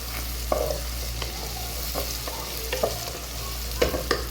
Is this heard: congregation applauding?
no